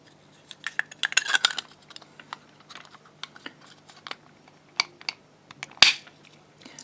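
A plastic cover clicks shut on a homemade car fault warning circuit for charging failure, no oil circulation and ignition left on. Scattered small clicks and taps lead up to one sharper snap near the end, close and fairly quiet.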